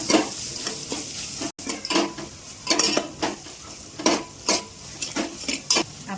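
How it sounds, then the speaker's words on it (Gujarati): Chopped onions and curry leaves sauté in a pan, with a steady sizzle broken by repeated clinks and scrapes of a spoon stirring against the metal. The sounds are close and there is no talk. "એને સારી રીતે સાંતળી લઈશું"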